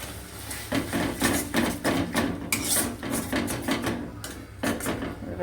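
Spoon stirring whipped sour yogurt in a bowl, a steady close run of soft scraping and light clinking strokes repeating for several seconds with no talking.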